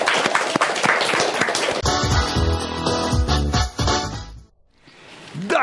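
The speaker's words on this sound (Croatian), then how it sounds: "jedan aplauz molim" An audience at a children's TV show applauds, with dense clapping for about two seconds. Music then rises over the fading claps before briefly cutting out.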